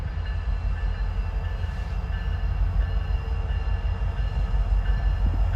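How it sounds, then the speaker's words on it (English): A slow-moving locomotive rolls past with a steady, close low rumble and faint high whine, holding an even loudness throughout with no voices. "Slow-moving trains like this one presented a special challenge."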